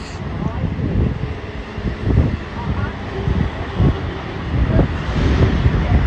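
Strong wind buffets the microphone in rumbling gusts while voices talk intermittently.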